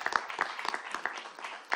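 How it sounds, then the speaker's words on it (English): Scattered applause from an audience at a youth entrepreneurship competition, a modest patter of individual claps over roughly two seconds, fairly light and uneven. "let's give that a round of applause"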